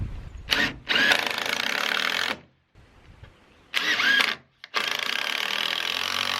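A power drill drives screws into a wooden porch rail on a playhouse build, with two long whirring runs, each broken by short stops and restarts, loud and close.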